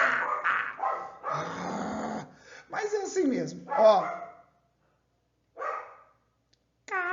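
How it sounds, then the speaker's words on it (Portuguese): A small dog barks and yaps indoors at home, several sharp barks with growly edges in bursts, while someone talks over and between them, followed by a pause of silence. "Olha o cachorrinho danado aí latindo."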